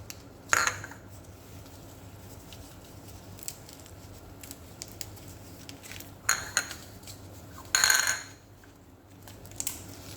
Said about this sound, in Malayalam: കടുക് ഇവിടെ നല്ലതായിട്ട് പൊട്ടി വരുന്നുണ്ട്.